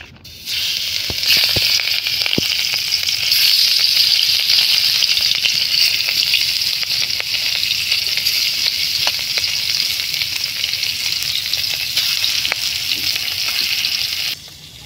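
Rui fish frying in a hot pan of oil at home, a loud steady sizzle and spatter running almost the whole time, close and unbroken with no talk over it.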